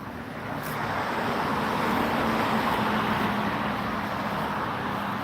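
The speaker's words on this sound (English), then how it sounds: "traffic's a little nuts right now" Busy road traffic rolls past in a steady, loud wash of tyre and engine noise that holds for the whole stretch, with no voices over it.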